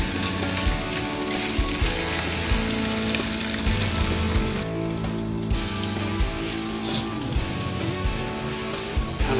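A steak sears in a hot pan with a loud, continuous crackling sizzle and dense spitting pops, heard close up with no talk.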